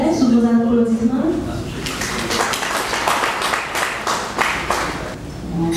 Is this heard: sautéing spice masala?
no